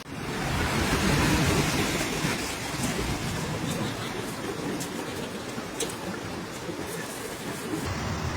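Heavy rain and a thunderstorm lash Athens, Greece, in a steady, dense roar of downpour that stays loud and continuous throughout, with low rumbling underneath and no voices.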